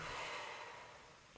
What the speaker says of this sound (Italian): Un bel respirone.